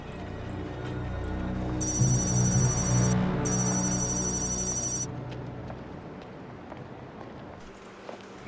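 An old-style telephone bell rings loudly in two long bursts, unanswered, over a low rumbling background that continues after the ringing stops.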